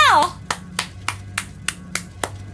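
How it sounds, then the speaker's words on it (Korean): A single person clapping during an Eternal Return game stream, about eight sharp, evenly spaced claps close to the mic, with a brief voice at the start. "박수 주세요!"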